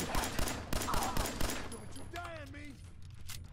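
Gunfire in the video game Fallout 4: a rapid burst of about eight sharp shots in the first second and a half, followed by quieter game effects and faint voices.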